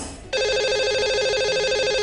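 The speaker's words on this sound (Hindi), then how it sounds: "लगाते हैं इन्हें कॉल और करते हैं इनसे बात" A telephone rings down the line as a radio show dials out to a listener, a steady warbling electronic ring tone that starts abruptly after a brief low hum and continues loud and unbroken.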